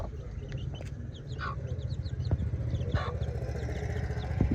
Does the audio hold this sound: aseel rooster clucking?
yes